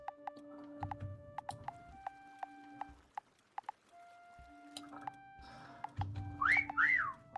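Whistling in the video game Meccha Chameleon: two short rising whistled notes near the end, set against quiet game tones, soft clicks and taps.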